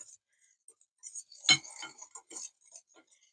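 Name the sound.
stirring brownie batter with cocoa in a bowl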